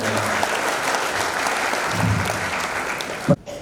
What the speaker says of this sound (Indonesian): Kita kasih tepuk tangan untuk Bapak.